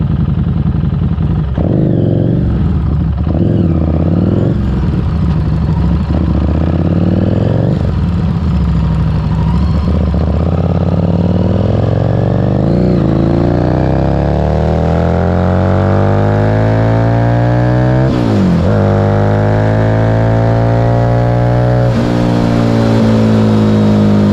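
A Harley motorcycle pulls hard from a standstill to 80 mph, its loud engine climbing in pitch through each gear, with several shifts audible as drops in revs.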